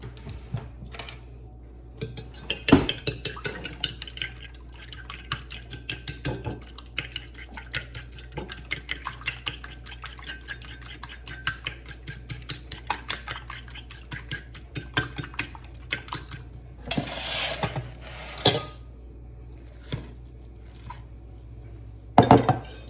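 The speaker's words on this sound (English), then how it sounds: "I'm going to crack the eggs and I'm going to give them a little whisk before I add them" Eggs are whisked in a bowl with a utensil, a long run of rapid light clinking and tapping that stays fairly quiet and close, broken by a few louder knocks and a short splash, with no talking.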